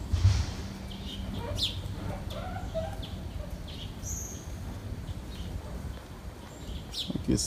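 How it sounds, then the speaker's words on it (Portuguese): Chickens and roosters clucking in an enclosure shared with peacocks and turkeys, scattered short fowl calls over a low background murmur and steady ambient noise, fairly faint and distant. "De galinha, galo, pavão, peru, tem tudo aqui."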